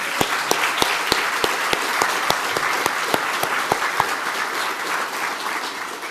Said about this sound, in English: I think that they deserve a round of applause.